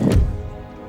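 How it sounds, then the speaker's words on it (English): An organ gun fires a volley in the video game Empire Total War, a single heavy thudding blast up close that rolls off into a low rumble, with no talk over it. "it's just an impressive sight to see the organ gun just fire that volley and harass the enemy"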